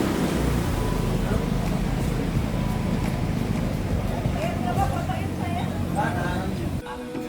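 A boat sets off on shallow water through mangroves among karst mountains, with a steady engine drone and water rush throughout, and voices talking over it.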